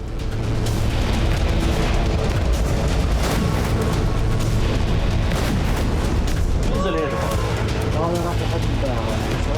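Heavy rumbling booms from airstrikes, loud and continuous throughout, with people talking over them.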